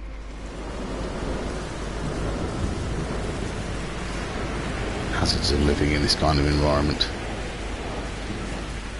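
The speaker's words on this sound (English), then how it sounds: "And there's a storm on." A thunderstorm with rain rages in the No Man's Sky video game: a steady, loud hiss of downpour with low rumbles beneath, while someone talks over it.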